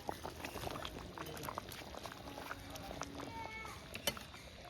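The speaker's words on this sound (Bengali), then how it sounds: "এবার আমি গরম জল দিয়ে দিচ্ছি। এবার আলুগুলো দিয়ে দিচ্ছি।" Hot water poured into a pot with potatoes, giving a bubbling, boiling wash with small splashes and clicks, quiet and close, with faint background voices.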